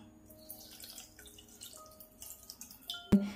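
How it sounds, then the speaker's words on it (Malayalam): Water trickles and drips into a pot of jaggery in a home kitchen, faint scattered drips under quiet room tone, ending in a sharp close clink. "എന്നിട്ട് കുറച്ച് വെള്ളം കൂടെ ഒഴിച്ചു"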